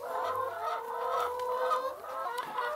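A group of organic-egg-laying hens cluck and murmur continuously nearby, overlapping soft calls forming a busy, steady chatter.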